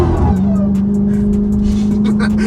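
A Dodge Hellcat Redeye drifting with no grip on worn tires, its engine holding a loud, steady high drone over a continuous rush of slipping rubber, close and constant throughout at a drift meet.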